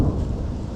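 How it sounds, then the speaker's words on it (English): Deep rumbling thunder from an approaching thunderstorm, a loud sustained roll filling the moment with no voices. "storm's coming."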